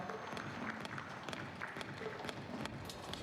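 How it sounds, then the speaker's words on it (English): Faint, steady applause from a conference audience at an Indian food safety event, a dense continuous patter of many hands clapping without a break, heard at a distance. "Can we have a huge round of applause, everyone?"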